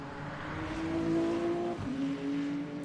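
A BMW race car in Le Mans Ultimate, pushing hard through a braking zone on a rain-light Silverstone lap, its engine note rising steadily, dropping sharply on a downshift, then climbing again at moderate, steady loudness.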